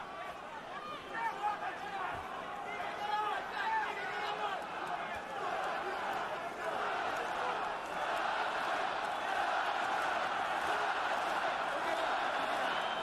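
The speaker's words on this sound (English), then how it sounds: "Russian crowd trying to lift Povetkin." A Russian crowd at a heavyweight boxing match between Wladimir Klitschko and Alexander Povetkin keeps up a steady roar of cheering and chanting, with bursts of yelling. It sits under a commentator's ongoing talk throughout.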